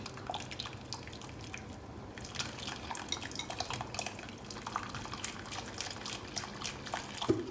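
Yogurt mixture poured into a pot of soup during iftar cooking, a soft steady trickle and drip of liquid with faint clinks of pots and utensils, fairly quiet and without talk.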